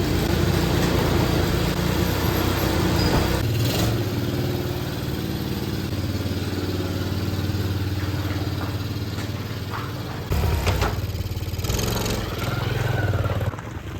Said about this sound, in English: let's get this thing started up. We're taking for a rip outside.